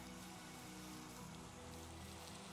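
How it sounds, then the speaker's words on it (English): Rain falls steadily in a video game world, a constant soft hiss of drops on the ground with no breaks, faint and evenly spread. "It's raining again."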